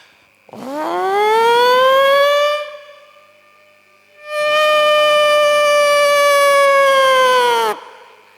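A loud wailing siren rises and holds for about two seconds, cuts off, then sounds again for a longer steady tone before stopping.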